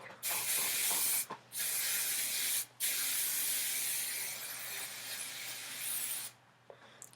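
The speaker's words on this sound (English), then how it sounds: "Don't be afraid to use a lot of hairspray." Hairspray hisses onto a bun in long, loud, close bursts with two brief breaks, then the spray fades and stops near the end.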